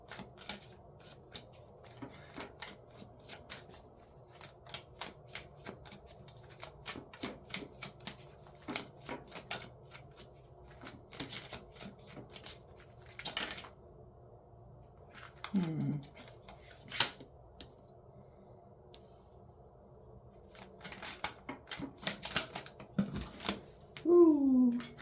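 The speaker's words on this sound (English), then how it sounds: "my cards are flipping all over the place" Tarot cards are shuffled and flipped in quiet, rapid bursts of soft papery riffles and slaps, close and fairly faint, scattered irregularly through the stretch.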